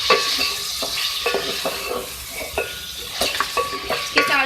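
Half-boiled beef is stirred in a hot pot for aloo gosht, with a loud sizzle and repeated scraping and clinking of a spoon against the metal, close and continuous.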